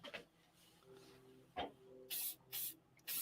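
Short, sharp hissing bursts from a spray can, likely aimed at the moving parts of a 3D printer, arrive in quick succession after a quiet stretch with faint mechanical hum.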